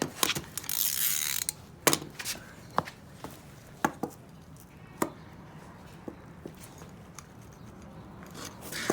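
A socket ratchet works on a specialty lug nut, giving a string of sharp mechanical clicks and clacks spaced irregularly across the clip, close and fairly loud against quiet background.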